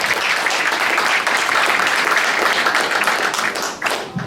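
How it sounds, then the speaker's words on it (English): A pub audience at a Politics in the Pub talk on the Galilee Basin gives a sustained round of applause, loud, dense clapping throughout that thins slightly near the end. "Please join me again in another round of applause"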